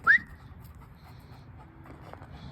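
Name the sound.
dog panting after scent tracking training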